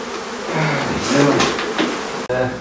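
Feral honey bees buzz loudly and continuously around an exposed hive of brood and honeycomb in a townhouse wall cavity, with a couple of sharp knocks from the removal work near the end.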